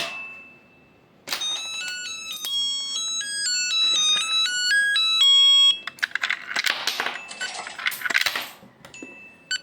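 Coin being inserted into a ShareWiFi coin-operated vending machine, followed by a run of bright electronic beeps and melodic tones, then clicks and short chirps near the end.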